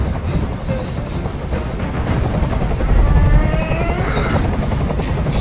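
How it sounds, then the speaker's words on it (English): Steady, loud helicopter rotor drone hovers close overhead in the video game Detroit: Become Human, a continuous chopping rumble with no speech over it. "Tell that helicopter to get out of here."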